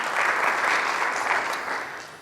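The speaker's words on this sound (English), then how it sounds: "Let's have a round of applause for Meghan for sharing her story." Audience applause at a melanoma prevention event on Long Island, a dense, steady wash of many hands clapping together that stays loud for a couple of seconds before easing slightly at the end.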